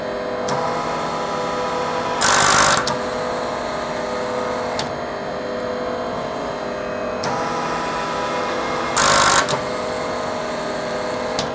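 A hydraulic FlexArm industrial tapping machine running at max RPM gives a steady mechanical whine and hum, with two short louder bursts of hissing noise, close and continuous, and no talk.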